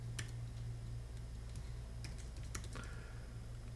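A computer keyboard clicks in a few sparse, irregular keystrokes as a command is typed, close and quiet over a steady low hum, with no voices.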